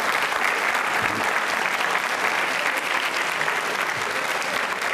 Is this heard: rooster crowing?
no